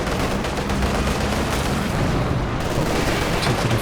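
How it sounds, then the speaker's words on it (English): Dense, continuous gunfire and booming battle noise from a Company of Heroes 2 2v2 match, with MG34 machine guns firing amid artillery-like thumps, loud and sustained throughout without pause. "2 MG34s for Laffey."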